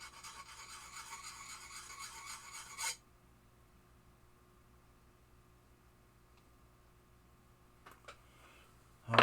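A file rasps steadily across small metal parts from a 1973 Williams Triple Action pinball machine, putting a slight bevel on the edges in fast, even strokes for about three seconds before stopping, followed by quiet ticks and a sharp knock.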